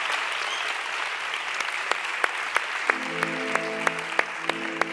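Applause from a live audience, steady clapping throughout, full and fairly close, with a hum of music-like tones and no talking.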